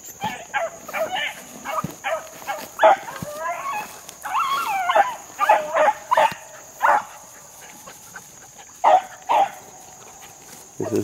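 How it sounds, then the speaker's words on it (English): Hunting hounds, a female and a male working a track in open country, bark and bay in repeated bursts at middle distance, with quieter gaps between volleys. "This dog is working the track."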